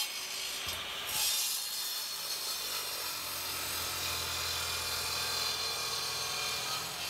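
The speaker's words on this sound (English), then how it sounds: "only a rotary saw will truly cut it." A rotary saw cutting old Gidgee hardwood fence posts into firewood makes a continuous, loud, harsh grinding roar over a low steady hum that holds unbroken from start to finish.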